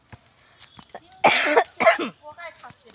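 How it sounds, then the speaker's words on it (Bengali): Loud, close coughing in a couple of harsh bursts, with a bit of throat clearing and scattered quiet sounds around it. "সরি বন্ধুরা কাশি লাগলো খুব জোরে"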